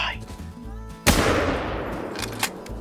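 One loud, close rifle gunshot outdoors on a hunting trip, a sharp crack with a long rolling echo fading behind it, followed by a few faint clicks.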